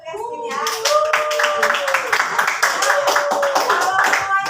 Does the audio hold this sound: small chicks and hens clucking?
no